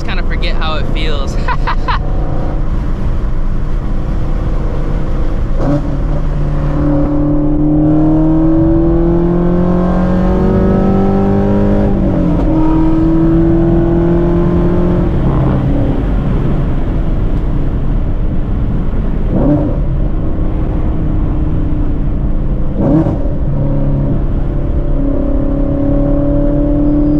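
A Shelby GT350 engine drones steadily inside the cabin on backroads, rising and falling in pitch as the car shifts and accelerates, with occasional talking over it.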